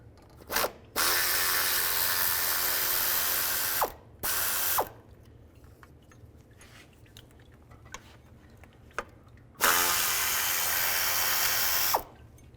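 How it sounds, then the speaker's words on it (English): A ratchet with a 10mm socket loosens bolts on a 2006-2011 Cadillac DTS during radiator replacement. It makes loud, close, rapid clicking runs lasting a few seconds each, broken by short pauses and softer handling noises. "Now take these two bolts out. Use a 10mm socket."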